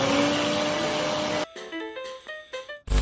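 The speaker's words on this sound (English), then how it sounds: "all you need is some sugar as well as a blender. I'm going to be using my Blendjet too." A Blendjet portable mini blender whirs loudly and steadily as it grinds sugar, then cuts off abruptly about halfway through, leaving quieter clattering and handling noises before a brief burst returns at the end.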